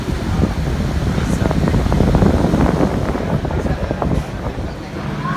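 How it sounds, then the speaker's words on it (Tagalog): A new electric fan runs close by, giving a loud, steady broadband whoosh with a gusty rumble that lasts throughout. "Ito po ang bagong nating electric fan."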